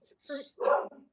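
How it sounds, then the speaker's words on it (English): A dog barks in the background during a Burlington public safety and police commission joint committee meeting, giving a few short barks close together over about a second, with a person speaking around it. "sorry about the dog in the background"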